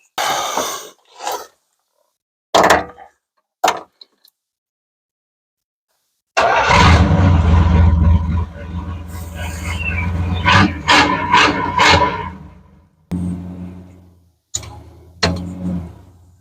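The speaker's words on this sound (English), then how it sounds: "car starts right up, runs real nice" A 1975 Chrysler Newport engine cranks and catches at once, then settles into a loud, steady, close-up rumbling idle with a few sharper bursts. The start comes after some brief, scattered bumps and knocks.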